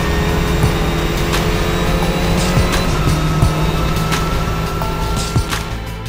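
A Mustang race car laps Sonoma Raceway, its engine a loud, continuous close-up drone with shifting harmonic pitch and occasional gear-change dips.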